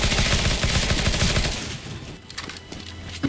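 Rapid automatic gunfire in CS:GO Zombie Escape, a dense burst of shots up close for the first second and a half, then thinning into scattered distant shots and game noise.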